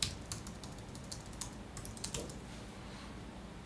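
Keystrokes tapped on a computer keyboard while entering numbers during photo editing, a run of light, quick clicks with short pauses against a quiet background hum.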